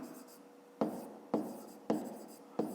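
Pen strokes on paper during a maths exercise, a few separate scratchy bursts repeating at a steady pace, close and quiet.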